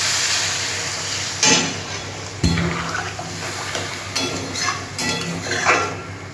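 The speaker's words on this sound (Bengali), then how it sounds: "এরপর আমি জল দিয়ে দেব।" Water poured into a pan of spice-fried potato and taro, with scattered clatters and scraping against the pan under a steady sizzling hiss, fairly close.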